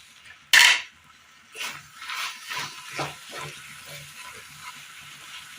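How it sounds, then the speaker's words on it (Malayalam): Cooked jackfruit and grated jaggery stirred in a pot, one sharp metallic clank followed by repeated soft, thick scraping and bubbling strokes at close range, no voices. "നന്നായി ഇളക്കി കൊടുക്കാം"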